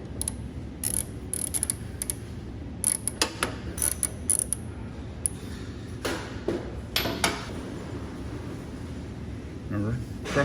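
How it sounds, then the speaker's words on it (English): Swivel-head ratchet clicking intermittently while turning the drain bolt on an airhead motorcycle's swingarm final drive, with short bursts of ratcheting over a steady low background hum. "this swivel head ratchet is one of the most useful things I've ever bought"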